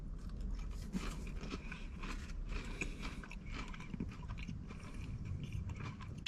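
Repeated crunchy bites and chewing of a KFC fried donut, close and fairly faint crunches in an irregular rhythm over background noise.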